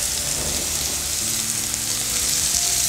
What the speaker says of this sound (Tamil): இப்போ நம்ம வெங்காயம், குடமிளகாய், பீட்ரூட் திருகினதை சேர்த்து நல்லா வதக்கிடலாம்.